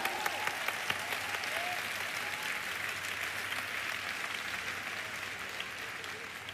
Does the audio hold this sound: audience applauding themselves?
yes